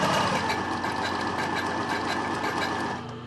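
Domestic sewing machine stitching lace trim for a bra, a fast steady mechanical whir with rapid needle ticking running close and continuous, the needles giving trouble and skipping stitches.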